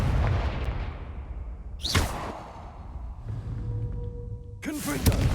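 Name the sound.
Confringo fire blast spell cast in video game Hogwarts Legacy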